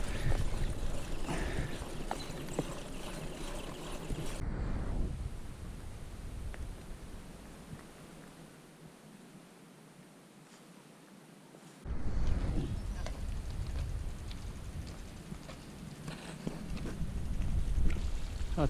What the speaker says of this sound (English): Back down to first gear, chugging along.